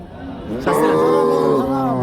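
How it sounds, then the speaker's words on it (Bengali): A cow at a cattle market gives one loud, close, drawn-out moo that swells suddenly and holds for about a second over faint background murmur. "বেশ চমৎকার একটা গাভী হাড়ে মোটা হাড্ডিসার গাভী"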